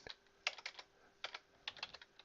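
Keystrokes on a computer keyboard while typing code, a quiet, irregular run of light clicks in small bursts with short pauses, no talking.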